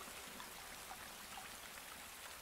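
Faint, steady cartoon rainfall, a soft continuous hiss of falling drops with no voices over it.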